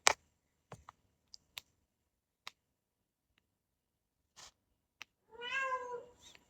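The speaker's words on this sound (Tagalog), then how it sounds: "Yung pusa ko." A cat gives one drawn-out meow, close and clear, after a few scattered soft clicks and taps in an otherwise quiet room.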